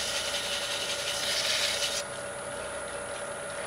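A wooden bowl spinning on a lathe is wet-sanded, giving a steady close rasping rub over the machine's constant tonal hum, with the scratchy texture easing partway through.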